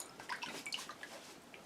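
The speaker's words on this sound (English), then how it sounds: "now let me clean my hand off here a second" Water splashes and drips softly as a gardener rinses a hand in a small water pot while planting, giving faint close-up sloshing and trickling with no voices.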